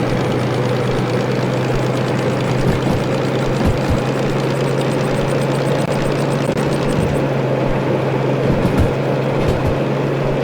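A diesel-mechanical locomotive in the Derail Valley train simulator runs with its engine brake applied hard in bad weather, giving a steady, loud, droning engine hum with faint rhythmic clanks throughout.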